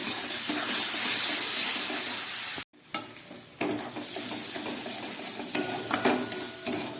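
Masala spices with a splash of spice water stirred and fried in a pan over a lowered gas flame, for chana masala, a loud steady sizzle broken by a brief pause, then lighter frying with scraping stirs, no voices.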